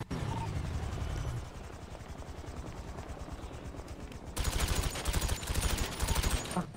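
Rapid automatic gunfire in a video game, dense bursts of rattling shots over a constant droning background, getting louder toward the end.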